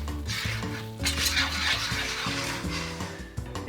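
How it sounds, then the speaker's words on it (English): Utensil scraping and stirring butter and wheat flour in a pan for a gravy roux for Norwegian meatballs, with a steady close clatter of metal against the pan and light sizzling, no talking. "Then add wheat flour and stir it well so there are no chunks."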